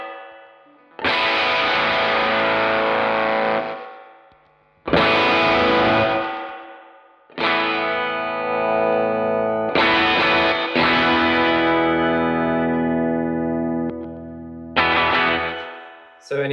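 An electric guitar played through a Hamilton Effects twin boost pedal rings out in several loud, distorted chords, each left to sustain and fade before the next one is struck.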